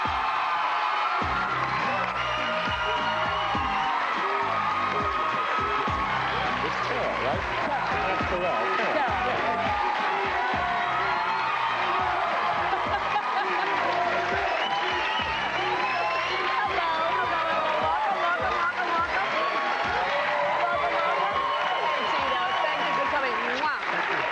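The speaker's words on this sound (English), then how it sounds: "when you hear all that applause" A studio talk-show audience applauds and cheers for the family group 3T and their father Tito Jackson, with sustained dense clapping, whoops and shouts filling the room at full volume throughout.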